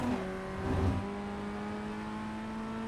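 FF1600 race car in iRacing revving at full throttle on the Lime Rock Park Grand Prix circuit, a steady buzzing engine tone with a brief surge early on, moderately loud and continuous.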